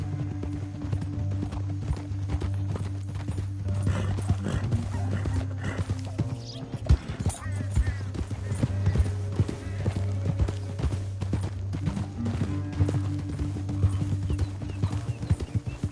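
Horse hooves clop in a steady galloping rhythm in Red Dead Redemption 2, over a low engine-like drone and background game sound effects, with occasional sharp noises.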